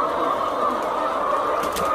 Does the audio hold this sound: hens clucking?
yes